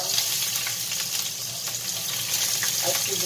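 Garlic and ginger sauté in a hot pan, giving a steady, close sizzle and crackle that runs unbroken throughout, with faint clinks and stirring mixed in.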